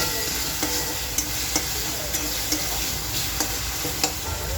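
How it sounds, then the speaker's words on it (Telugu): Chopped onions and tomatoes sizzle in hot oil, a steady close crackle broken by several light clicks of a stirring utensil against the pan, with no speech. "ఆనియన్స్ అనేవి లైట్ బ్రౌనిష్గా వచ్చేంత వరకు మనం ఫ్రై చేసుకొని ఉంచుకోవాలి"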